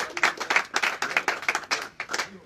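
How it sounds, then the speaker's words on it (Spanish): Applause at an awards ceremony honoring a young athlete from a champion under-14 team, a steady round of close, dense clapping from a crowd lasting a couple of seconds. "El aplauso de compañerismo para él."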